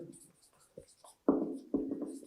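A teacher writes on a board during an English grammar lesson, with short scratchy strokes mixed in between and under steady speech.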